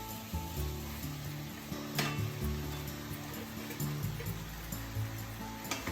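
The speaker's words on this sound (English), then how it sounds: "keep cooking until outside of the vegetables are coated with the oil" Vegetables frying in oil beside chicken in a pot for a Japanese chicken and potato stew, a dense continuous sizzle with stirring clatter and a low hum underneath, no talking.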